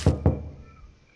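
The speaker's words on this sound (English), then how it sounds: "A knock breaks my train of thought." Two firm knocks on a door in the video game Death Mark, close and distinct, spaced about a fifth of a second apart, followed by a quiet fading tail.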